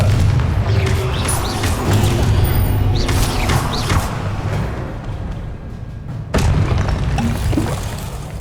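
In Hogwarts Legacy, a Confringo blasting spell detonates as a loud booming explosion within ongoing combat, with scattered magical whooshes before it and a second sharp blast near the end.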